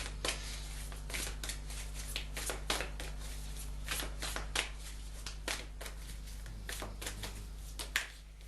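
Tarot cards being shuffled for a reading, close and quiet, in repeated crisp riffling bursts at an uneven rhythm over a steady low background hum.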